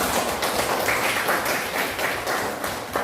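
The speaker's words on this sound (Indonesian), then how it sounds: "Kita sama-sama memberi aplaus atau apresiasi. Tepuk tangan." A class of students claps together in a classroom, a brief, dense burst of applause at steady loudness, heard alone without talk.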